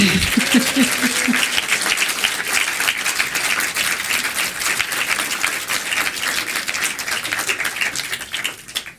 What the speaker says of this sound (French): Allez-y, lâchez-vous, applaudissez-les.